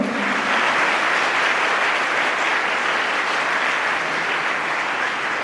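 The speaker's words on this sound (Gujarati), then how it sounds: "એવા વિદ્યાર્થીઓને આપણે જોરદાર તાળીઓથી વધાવીએ." An audience at a school girls' education and admission festival breaks into loud, sustained applause for medal-winning students, a dense steady wash of many hands clapping for over five seconds with no talk over it.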